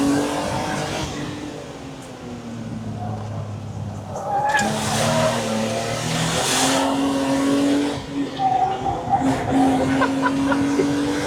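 A BMW E30 Hartge drives along a twisting road, its engine humming steadily from inside the cabin and rising in pitch as it accelerates, with people talking over the drone.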